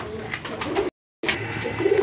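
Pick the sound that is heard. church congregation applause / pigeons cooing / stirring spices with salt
pigeons cooing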